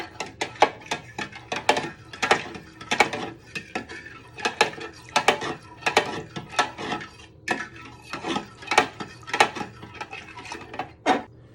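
A spoon scrapes and clacks rhythmically against a pan as tomato puree and water are stirred for minestrone, close and repeated with no talk.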